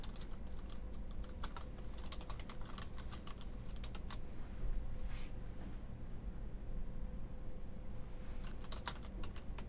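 Quiet, rapid typing on a computer keyboard, dense clusters of soft key clicks with brief pauses, close and alone over a low room hum.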